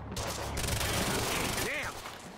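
Rapid gunfire crackles in the action game Quantum Break, a dense burst of shots over a few seconds mixed with shouted voices and a sweeping whoosh near the end.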